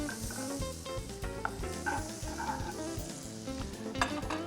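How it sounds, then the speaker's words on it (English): Butter sizzles steadily in a hot pan for fish picatta, a dense continuous crackle with scattered sharper pops, close and fairly loud, with no voices. "Get a little hot pan going, a little bit of butter."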